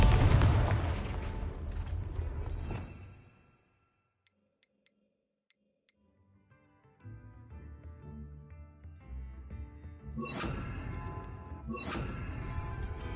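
Confringo blasting-spell explosions in the Hogwarts Legacy video game, loud booming bursts with rumbling blasts at the start, a quiet gap with faint ticks, then more heavy explosive crashes returning toward the end.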